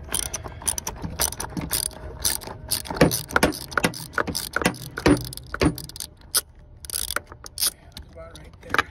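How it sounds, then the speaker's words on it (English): A 10 mm socket wrench loosens a bolt on a Toyota Sienna, producing a loud, close run of sharp ratchet clicks in quick back-and-forth strokes that keep going through the whole stretch. "after you have loosened up this bolt right here with the 10 millimeter"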